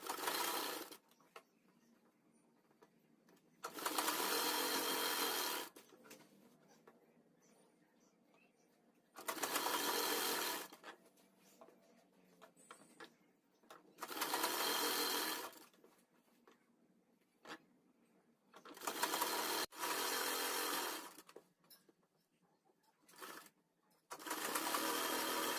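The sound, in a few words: sewing machine stitching corded piping onto dress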